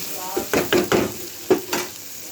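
Chicken frying in a pan, stirred in short bursts, each scrape and toss raising a burst of sizzling, close and fairly loud, over a soft background hiss.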